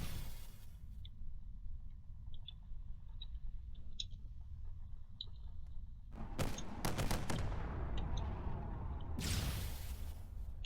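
Explosions and heavy combat fire in the space strategy game Drone Wars: a quiet hum with small blips, then a burst of loud cracking blasts around six to eight seconds and another big roaring blast near nine seconds.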